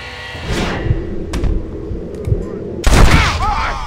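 Gunshots ring out in the Red Dead Redemption video game: a few sharp isolated cracks, then a loud burst of gunfire near the end, with voices talking underneath.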